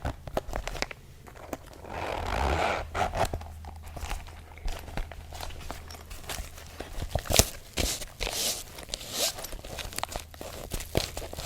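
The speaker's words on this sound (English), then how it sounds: "That's a much different zipper sound from the previous one." A toiletry bag zipper is worked open and closed with ragged rasping pulls, mixed with rustling and crinkling of fabric close by.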